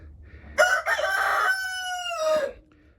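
A chicken in a backyard coop with laying hens lets out a single drawn-out crow lasting about two seconds, fairly close and loud against a quiet background, with no talking.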